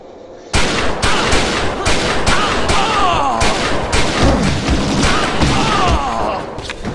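Rapid gunfire from the video game XIII rings out in dense, loud bursts of shots and impacts that continue almost without pause after a brief quiet start.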